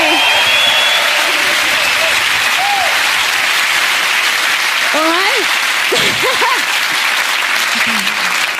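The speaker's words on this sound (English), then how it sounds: "Give them a huge round of applause." Loud, sustained audience applause fills a televised concert show, dense clapping from a large crowd throughout, with a brief spoken remark over it.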